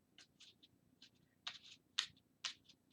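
A Lenormand card deck being shuffled, with soft, close riffling bursts that come in short irregular clusters and grow louder toward the end, heard in a quiet room without talk.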